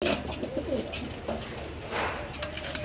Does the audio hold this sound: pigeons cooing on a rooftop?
yes